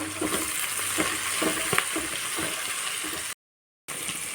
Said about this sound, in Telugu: ఇప్పుడు దీన్ని బాగా కలుపుకోవాలి